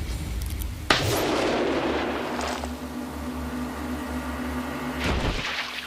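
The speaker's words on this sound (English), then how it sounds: "I fixed her gun to explode" A sabotaged gun explodes in the video game Vampire Rain: one sudden loud blast with a harsh burst, then a decaying roar over a low steady rumble, with a second swell near the end and no voices.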